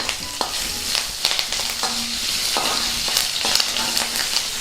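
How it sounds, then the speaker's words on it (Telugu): Curry leaves and green chilli pieces sizzle loudly in hot oil in a pan, a steady crackling fry broken by a few sharp spatters and stirring clinks. "కొద్దిగా కరివేపాకు కూడా వేసి వేయించుకుందాం"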